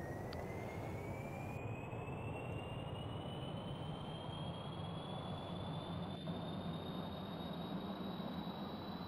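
In Kerbal Space Program, a plane's jet engine runs at full throttle, a loud constant roar with a high whine that climbs steadily in pitch, heard alone and unbroken from start to finish.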